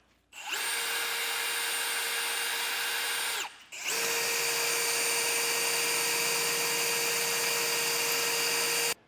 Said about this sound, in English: we need to drill out a hole in the side of our frame rail to a 1/2 inch